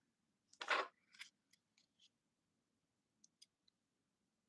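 A page torn during paper journaling: a short, close rip followed by a few faint, scattered ticks and light crinkles in an otherwise quiet room.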